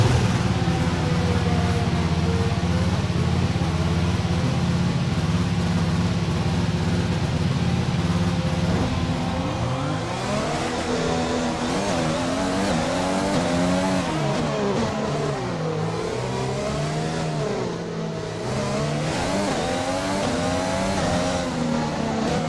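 Formula 1 race car engine in the F1 2020 video game during Dutch qualifying, a loud continuous high-revving whine that rises and falls through gear changes, steady and unbroken throughout.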